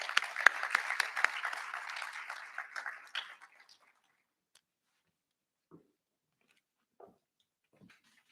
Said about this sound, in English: a warm, hearty round of applause and welcome